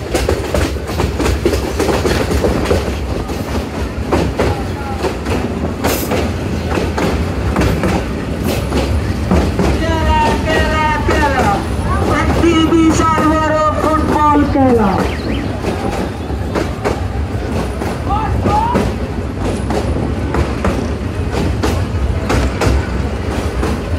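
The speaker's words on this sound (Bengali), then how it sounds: "অল্প সময়ে আমাদের ট্রেনটি মানিকখালী রেল স্টেশন প্রবেশ করবে।" The 737 Up Egarosindur Provati Express rolls toward Manikkhali station with rhythmic clickety-clack and steady rumble, while brief high wheel squeals rise midway; loud and close, continuous throughout.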